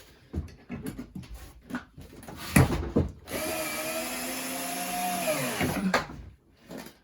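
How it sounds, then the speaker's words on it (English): A power drill drives screws into a baseboard: a loud, sustained whir of roughly three seconds with a rising pitch under load, preceded by shorter bursts and handling knocks. "Need a slightly bigger drill head. Slightly fatter, so it can get a better grip in the screws."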